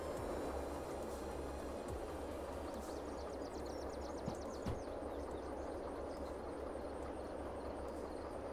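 A locomotive rolling in the train video game Derail Valley gives a steady, low, faint rumble throughout, with occasional clicks and clanks of wheels on track.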